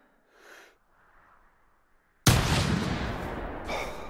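A single loud rifle shot fired at a Sitka deer in theHunter, cracking out suddenly after near silence and ringing into a long rolling echo, with faint breathing or rustling heard beforehand.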